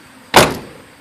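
A repaired fiberglass car door shuts with a single sharp, solid thump at close range, followed by a short fading rattle, with nothing else heard.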